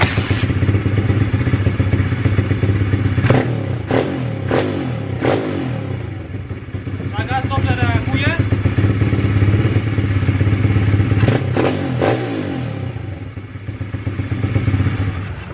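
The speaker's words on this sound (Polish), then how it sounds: "Przy nagłym przegazowaniu wchodzi ładnie na obroty." A pit bike engine runs loudly up close, idling with a rough, lumpy rhythm and then revving sharply in quick throttle blips, with clattering mechanical knocks between the revs and no talking.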